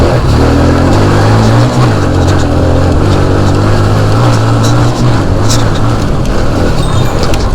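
A motorbike engine revs hard on a village road, a loud, close, continuous roar with a steady low drone that swells and dips slightly as the throttle changes.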